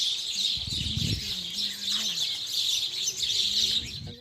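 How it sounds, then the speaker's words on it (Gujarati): Sparrows chirp busily and continuously in the open morning air on a village rooftop, a bright twittering chorus over a soft low background hum. "સવાર સવારમાં ચકલીનો અવાજ અને ઠંડો પવન ને બહુ મજા આવે"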